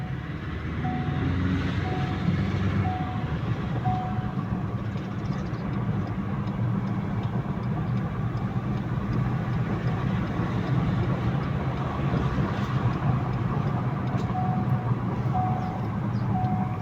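A Ford Ranger Raptor pickup on a road test, its engine and road noise rumbling steadily and fairly loud throughout, with a faint recurring tone above.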